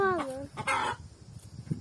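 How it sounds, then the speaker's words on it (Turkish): Hens clucking in a village coop, a close, loud descending squawking cackle followed by softer scattered clucks, with faint background noise. "Bir tavuk daha yatıyormuş orada Emre."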